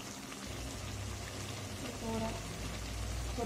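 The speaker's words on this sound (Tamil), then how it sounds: "இன்னும் நல்லா அந்த தண்ணியெலாம் சுண்டுற அளவுக்கு வேக விடணும்" Red amaranth greens simmer in a pan as their water cooks off, giving a steady close bubbling hiss over a low hum.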